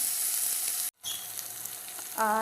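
Onions sauté in a pan as the base for a chicken roast gravy, giving a steady bright sizzle with a brief cut-out early on and a short tonal beep near the end.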